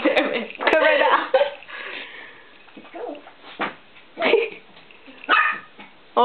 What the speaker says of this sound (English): Oh, Susie's barking back.